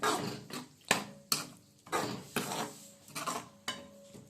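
A spoon scrapes and knocks against a pan while coriander is mixed into mushroom masala, making about eight rhythmic strokes close by, each a sharp clatter followed by a short scraping tail, with no talk.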